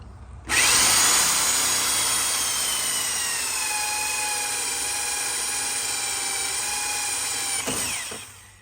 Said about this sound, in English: And we're just going to drill right through it.